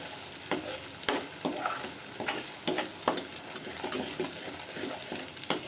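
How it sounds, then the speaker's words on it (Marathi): A spoon works through aloo matar korma masala in a pan, giving a low sizzle with frequent soft scraping and stirring strokes, close but quiet, with no voices. "पाच सहा मिनटं ढवळून घ्या हे"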